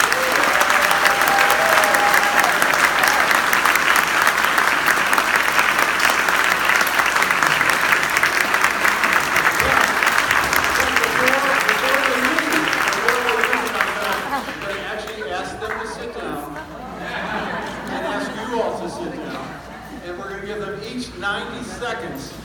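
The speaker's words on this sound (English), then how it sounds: "please give our 4 candidates a round of applause" Loud, sustained applause from a forum audience in Colorado Springs for four political candidates, a dense wash of clapping lasting over ten seconds before fading as a voice begins speaking.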